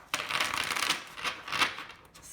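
A new standard-size Numinous Tarot deck being shuffled, giving a brisk, papery riffling rush in two close surges before it fades out.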